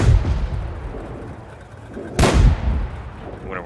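Renault NC-31 light tank firing in World of Tanks, one sharp booming gunshot that stands out loud against a constant low engine rumble.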